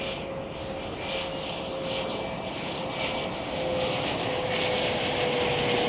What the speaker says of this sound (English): We do have another flight coming in.